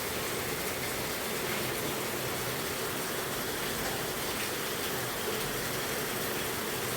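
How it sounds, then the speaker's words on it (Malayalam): Heavy rain falls steadily and continuously, a dense broadband hiss with no pauses and no voices over it. "ഇപ്പോഴും രാവിലെ തുടങ്ങിയ മഴയാണ്."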